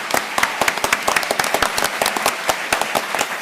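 A hall audience claps for the debate team in a short, lively burst of dense, sharp hand claps, close and steady, with no talking.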